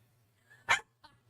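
A dog gives one sharp, fairly close bark followed a moment later by a softer, brief yelp, over a low steady hum.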